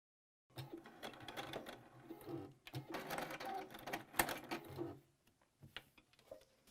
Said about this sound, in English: now no need to get up from your sewing machine